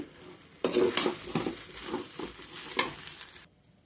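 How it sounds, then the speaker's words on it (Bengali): Pulao rice being stirred in a cooking pan for a Chinese-style fried dish: brisk close scraping and tossing strokes over a light sizzle for about three seconds, then the sound stops abruptly. "নেড়ে দিব এখন"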